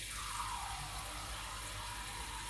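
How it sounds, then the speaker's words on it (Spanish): Tap water running steadily into a bowl of cake batter, a smooth continuous hiss and trickle heard close up with no voices. "Y ahora vamos a poner 190 gramos de agua."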